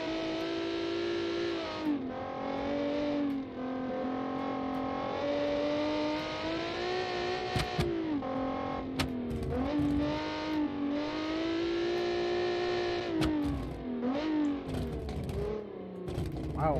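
A 1992 DTM-style race car in the Automation driving game, its engine revving and droning steadily, with pitch climbing and dropping repeatedly through gear changes and throttle lifts.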